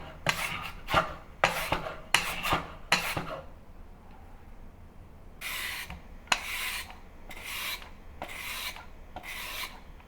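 Carrot pushed across a mandolin slicer into thin strips for zha jiang mian, with brisk rasping strokes in two rhythmic runs of about five passes each, separated by a short pause, close and fairly loud with no talking.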